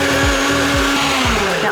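A blender or magic bullet whirs loudly while mixing high protein pancake batter, a steady close motor whine with pulsing variation.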